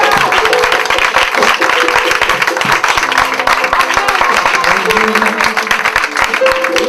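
A church congregation at a worship service applauds and cheers for Jesus, steady dense clapping mixed with shouting voices, loud and continuous throughout with no pauses.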